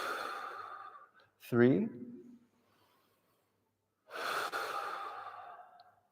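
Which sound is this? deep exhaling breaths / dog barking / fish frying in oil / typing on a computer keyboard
deep exhaling breaths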